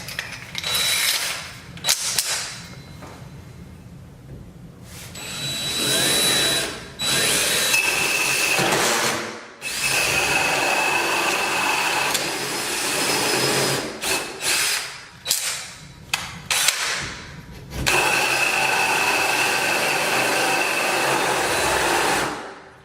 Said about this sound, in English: You're going to drill from both sides.